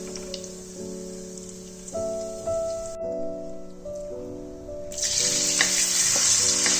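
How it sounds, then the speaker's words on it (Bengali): Paneer cubes sautéing lightly in a pan for a mixed vegetable dish give a steady, soft sizzle that runs throughout, with sustained musical tones playing in the background. "পনিরগুলোকে হালকা সতে করে নেব।"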